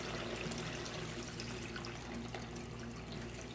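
Four and a half cups of water pour steadily into three cups of basmati rice for a vegetable biryani, a continuous close splashing rush with no talking.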